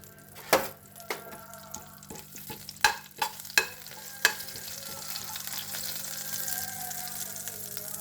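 Cumin seeds dropped into three spoons of hot ghee for palak paneer, with several sharp stirring knocks and clinks over a low sizzle that builds into a steady hiss toward the end.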